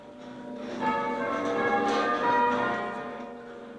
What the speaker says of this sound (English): bells to celebrate a long life